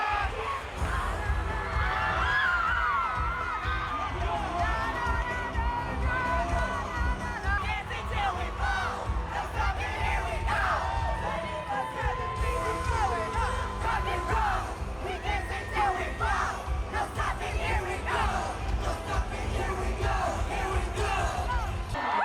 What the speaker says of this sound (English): here's a compilation of some epic times that I had at the concert, and I am sorry for the demon screaming